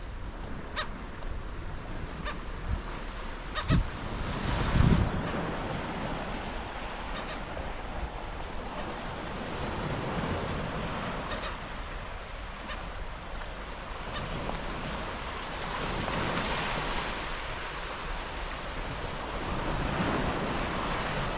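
Ocean waves wash continuously onto a beach at Turtle Rock in Incheon, Korea, a broad steady surf roar with gentle swells and wind, plus faint distant bird calls and a brief knock near the start.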